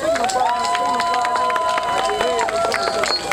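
A large crowd at a public gathering in Kinshasa cheers, shouts and claps, making a continuous loud roar. A speaker's voice carries over the noise through the hall's sound system.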